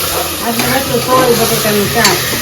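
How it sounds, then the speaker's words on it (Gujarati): Asafoetida, mustard seeds and cumin crackle and sizzle in hot oil for a home-kitchen tempering, a steady dense fry with stirring scrapes and a voice talking faintly underneath. "આપણે વઘાર કરી નાખ્યો છે હિંગ ને રાઈ જીરું ને હિંગ નાખી"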